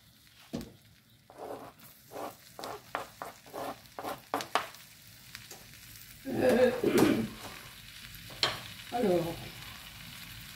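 Garlic frying in butter with cumin and spices for a spiced shrimp dish: a close sizzle in short bursts, with stirring scrapes and several louder frying surges as the pan is worked.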